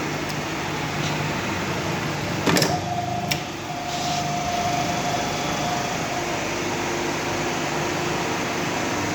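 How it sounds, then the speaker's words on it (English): Three-phase motor on a single-to-three-phase converter from a UK 240 V supply, running on only two phases: a steady mechanical hum with a faint whine, two short clicks early on, continuous at moderate level. "The 3-phase motor at the moment will only be running on 2 phase."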